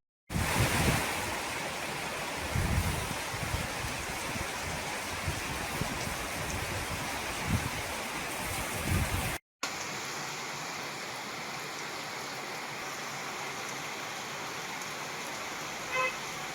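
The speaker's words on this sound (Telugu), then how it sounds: "ఉమ్మడి వరంగల్ జిల్లా వ్యాప్తంగా తుఫాన్ ప్రభావంతో భారీ వర్షం కురుస్తోంది." Heavy cyclone rain pours steadily across Warangal district, a constant loud hiss with wind in two outdoor shots split by a brief silent cut, and no voices.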